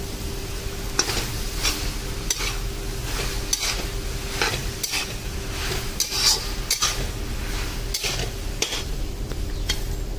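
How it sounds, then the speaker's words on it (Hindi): Vegetable noodles with spring onion being tossed and stirred in a frying pan, with a steady sizzle under repeated scraping and clinking of a utensil against the pan, no voices. "अभी अच्छे से मिक्स कर लेंगे।"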